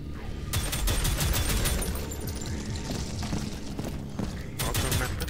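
Dense, continuous gunfire from the first-person shooter Prodeus, a loud rapid barrage of overlapping shots and booms running nearly unbroken through the whole stretch, with heavier bursts near the start and end.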